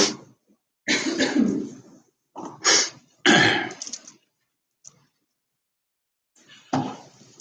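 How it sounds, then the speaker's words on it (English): A few sharp, noisy bursts of nose blowing, close and loud, separated by short silences, with a last softer blow near the end. "Just in time to blow my nose"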